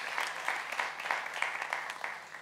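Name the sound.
church congregation applause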